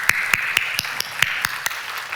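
A church congregation claps in a steady rhythm during a Christmas service, about ten sharp, evenly spaced claps ringing out close and clear over a quiet room.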